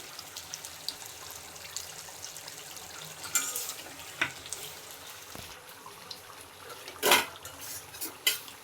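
Goat meat being stirred with spice powder in a metal pot: irregular scraping and clinking of a spoon against the pot, with a few louder knocks, close and alone.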